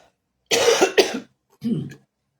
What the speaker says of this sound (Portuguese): eu tô até com um pouco de tosse